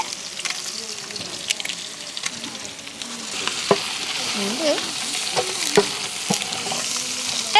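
Whole cinnamon, cloves and cardamom frying in hot oil for Palakkad-style biryani, a steady close sizzle with scattered clinks and scrapes of a spoon against the pan, no talking.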